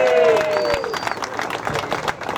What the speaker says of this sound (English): A round of applause for Hot Rod Mike.